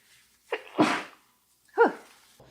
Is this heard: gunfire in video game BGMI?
no